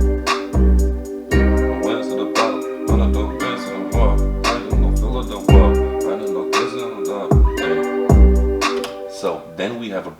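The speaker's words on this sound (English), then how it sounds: "What we want to do now, we bring the layer melody there inside." Layered synth melody stacked over an FL Studio beat of heavy kicks, claps and hi-hats, the full loud mix running continuously without any voice.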